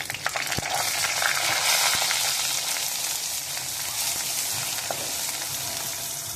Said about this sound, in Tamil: பொடியாக நறுக்குன வெங்காயம் போட்டுக்கோங்க.